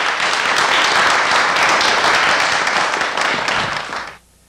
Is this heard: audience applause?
yes